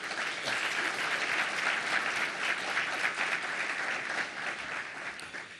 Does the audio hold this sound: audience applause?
yes